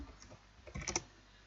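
Brief typing on a computer keyboard, a few soft, quiet key clicks in a short cluster.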